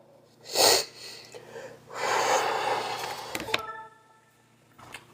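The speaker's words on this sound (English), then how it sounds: "I've been sick too, so I'm apologize for blowing my nose" A person who is sick blows their nose, with a short snort followed by a longer, congested blow and some sniffling and rustling nearby, close up and with no talking.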